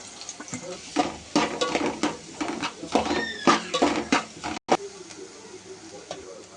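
Chopped onions sauté in hot oil with mustard seeds, fenugreek and curry leaves for a potato and dried anchovy curry, giving a crackling sizzle broken by repeated scrapes and clinks of a stirring spoon against the pan, close and with no voices.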